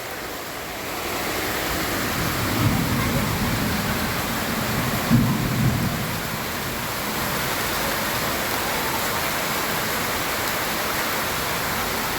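Steady heavy rain hisses throughout, with a low rumble of thunder swelling in the middle before fading back into the downpour.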